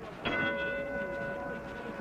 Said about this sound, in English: Bell for the 4th